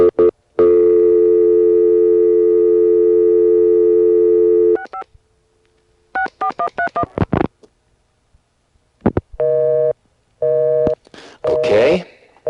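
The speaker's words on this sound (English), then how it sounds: "Now I'm going to flash again and dial an ESS busy signal." A 1A ESS Centrex telephone line from 1983 gives a steady busy tone that cuts off. Clipped DTMF dialing beeps and further short bursts of call-progress tones follow.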